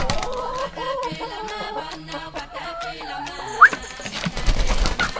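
Chickens cluck and murmur nearby in a soft, continuous chatter, with scattered pecking and rustling noises toward the end.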